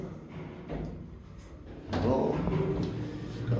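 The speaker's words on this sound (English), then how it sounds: "Doors closing." Otis 2000 lift doors in a car park sliding shut with a loud thud partway through, followed by a mechanical rumble, with a faint voice in the background.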